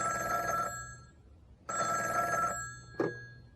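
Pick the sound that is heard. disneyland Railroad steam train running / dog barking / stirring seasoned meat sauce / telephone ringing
telephone ringing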